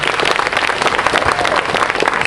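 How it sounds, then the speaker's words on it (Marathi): Loud, dense audience applause fills a stage event, a continuous wash of many hands clapping with no break. "एकदा त्या मुलीसाठी जोरदार टाळ्या वाजवायच्या."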